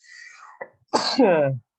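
A single person's sneeze, a sharp sudden burst with a breathy intake, followed right away by a brief voiced utterance.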